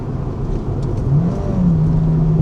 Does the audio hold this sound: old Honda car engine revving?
yes